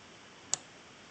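A single sharp, faint computer mouse click, very short and isolated against a quiet background hiss, with no talk.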